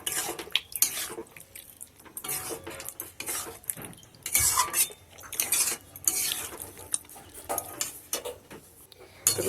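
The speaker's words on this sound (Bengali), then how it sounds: "ভালো করে আলুর সাথে ক্যাপসিকাম আর টমেটোটা ভালো করে মিশিয়ে নেব।" A spoon scrapes and clatters in a pan as potatoes are stirred together with capsicum and tomato, giving irregular metallic knocks and scraping at moderate volume.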